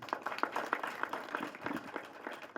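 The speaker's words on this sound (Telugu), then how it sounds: "వాళ్ళ కోసం గట్టిగా చప్పట్లు ఒకసారి." An audience at a Telugu film pre-release event claps, a patter of scattered handclaps from a crowd at moderate distance, fairly faint and brief.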